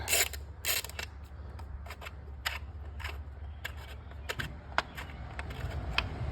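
A ratchet works loose the spark plugs on a 2022 Honda Accord 2.0, sending sharp, irregular metallic clicks and rattles up close over a quiet background.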